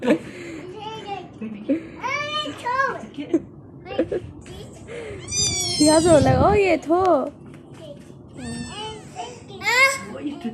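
Repeated high, thin kitten meows come close and insistent, several in a row, mixed with a person's voice talking nearby.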